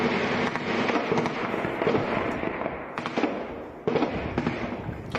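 Gunfire in an ongoing firefight in a war zone, with rapid cracking shots and bursts rattling continuously and echoing at some distance, with louder clusters of shots at intervals.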